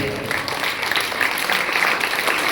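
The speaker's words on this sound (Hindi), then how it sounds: "जहां पंक्तियां खत्म होंगे आप तालियां बजा सकते हैं" Applause from an audience at a Deepawali function poetry recital, a continuous patter of many hands clapping with individual claps audible in the mix, steady and close throughout.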